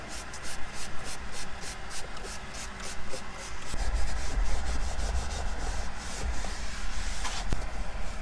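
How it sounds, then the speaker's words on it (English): Scrub pad rubbing back and forth over a leather car seat during interior detailing, a steady close scratchy scrubbing with rhythmic strokes that grows louder and denser partway through. "let's get to cleaning this leather"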